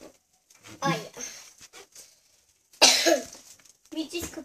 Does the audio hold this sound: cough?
yes